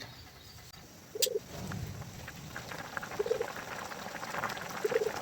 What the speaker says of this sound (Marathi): आपली भाजी उकळलेली आहे